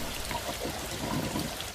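Rainwater swishing and tumbling down a drain on a wet day outdoors, a steady close trickling pour that runs unbroken for the whole moment with no voices.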